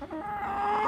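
Chickens in a backyard coop give a short burst of clucking close to the microphone, a single rising cluck with a sharp squawk at the end.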